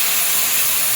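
Cooled boiled water poured into a hot pan gives a loud, steady hiss of steam that fills the whole short moment, close and unbroken.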